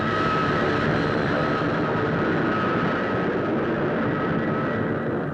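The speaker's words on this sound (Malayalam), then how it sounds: "എന്റെ വീടിന്റെ മുകളിൽ കൂടെയാ പ്ലെയിൻ വരുന്നതും പോകുന്നതും" An airplane passes low over a house, its engine a loud continuous roar with a faint steady whine, holding level before easing slightly toward the end, with no talking.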